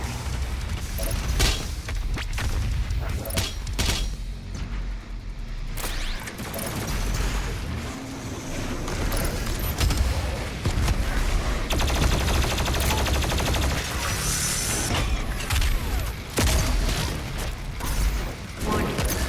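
The BFG 10,000 in DOOM Eternal fires amid a dense, unbroken wall of loud game combat, with heavy booms, rapid gunfire and mechanical clanking all running together for the whole stretch.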